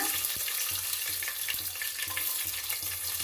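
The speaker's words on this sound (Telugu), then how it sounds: "వేగాయి చిట చిట అంటున్నాయి ఇప్పుడు ఉల్లిగడ్డలు వేస్తున్నాను" Onions fry in sputtering hot oil for a radish sambar, a close steady sizzle with frequent crackling pops and occasional stirring clicks.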